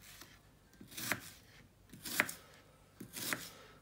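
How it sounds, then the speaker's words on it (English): A knife chops through an onion on a board for an Egyptian breakfast with baba beans. Three distinct, crisp chops land about a second apart over quiet background hiss, close and clear, with no speech. "So basically start with cutting your onion."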